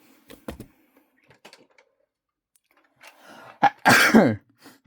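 A few faint rustles, then a sharp cough and a loud, forceful sneeze close by, followed by quiet.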